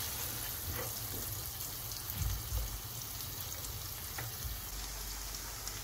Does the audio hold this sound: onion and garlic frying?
yes